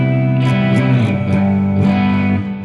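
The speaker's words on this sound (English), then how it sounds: "now we have the resound, which is just a nice reverb" Electric guitar played through a reverb pedal on a pedalboard, sustained chords ringing with a washy, spacious tail and a few picked notes on top, steady and loud throughout with no talking.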